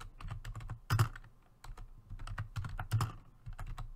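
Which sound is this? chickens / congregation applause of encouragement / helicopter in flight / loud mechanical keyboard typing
loud mechanical keyboard typing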